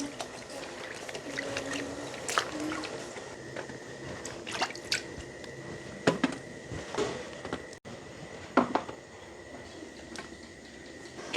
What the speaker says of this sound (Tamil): இப்போ நாங்கள் எல்லாத்தையும் படிவாக கழுவி எடுப்போம்